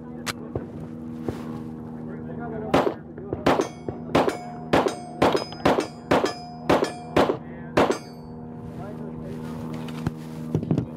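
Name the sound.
gunshots from Hudson H9 steel-frame pistol at the range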